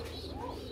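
A pigeon at a market stall gives a brief, soft, low coo, faint and close, with no speech.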